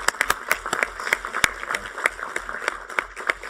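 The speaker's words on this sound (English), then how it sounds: "let's all give Dia another round of applause for her amazing leadership over these past 2 years" A small audience applauds at an alumni council meeting, with a steady patter of many hands clapping at close range and distinct individual claps standing out, with no talk over it.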